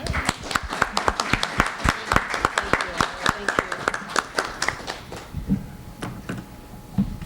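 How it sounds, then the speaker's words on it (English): A room of listeners at a careers panel on international careers gives the panelists a round of scattered, sharp claps that thin out and trail off toward the end, with a voice briefly heard under it. "Maybe a round of applause would be great."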